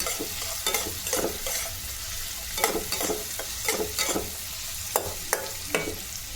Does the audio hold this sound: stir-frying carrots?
yes